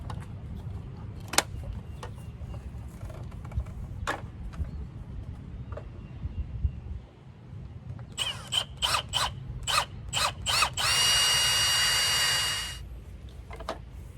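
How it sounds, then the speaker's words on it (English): A power drill whirs in short bursts while drilling a hole during a car mirror turn-signal install, then runs steadily for a couple of seconds before stopping, with scattered clicks and knocks before it. "I think I'm going to have to drill a hole to give me a little bit extra length"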